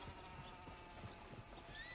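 Soft hoof clip-clops of a horse in Red Dead Redemption 2 plod along at a walk beneath steady ambient noise, with a faint high whinny-like tone partway through.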